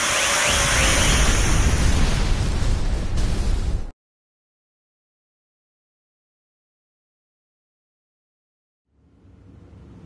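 A loud, broadband explosion blast at a facility in Star Ocean fills the first four seconds, cuts to silence, then a low rumble returns near the end.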